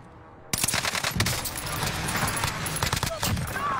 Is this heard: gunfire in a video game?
yes